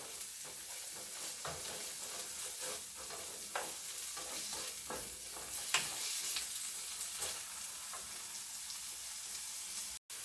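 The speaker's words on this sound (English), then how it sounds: "I'm gonna let it fry for another minute" Fish roll filling fries in a pan with a steady, soft sizzle and occasional stirring scrapes, faint and continuous for about ten seconds before cutting off abruptly.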